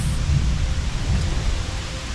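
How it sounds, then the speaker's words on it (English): Heavy rain pours down steadily with a deep low thunder rumble rolling underneath, a dense continuous hiss of falling water throughout without any voices. "It's raining so hard."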